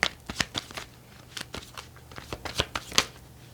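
Tarot cards are shuffled and drawn by hand, giving soft close riffles and flicks in short irregular bursts, with light snaps as single cards slide free. The room is otherwise quiet.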